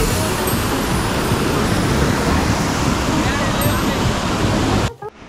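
Lingmala waterfall near Mahabaleshwar in monsoon flood pours with a loud, dense, unbroken roar of rushing water close by, cutting off abruptly near the end.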